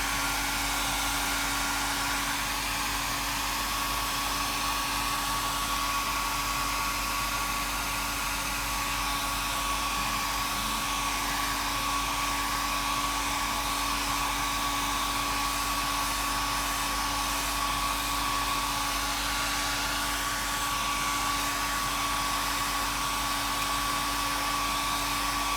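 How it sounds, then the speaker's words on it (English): A hairdryer blows steadily and loudly without pause, drying a galaxy watercolor painting, its constant whooshing drone accompanied by a steady motor whine. "I'm going to be using a hairdryer."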